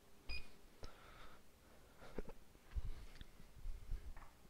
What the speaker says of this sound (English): which I'm actually going to set a timer now